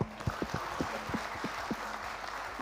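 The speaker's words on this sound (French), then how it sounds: "On va l'applaudir très très fort" Studio audience on a Burkina Faso television variety show applauding steadily for a few seconds, the clapping joined by a rhythmic beat of low thuds in the background.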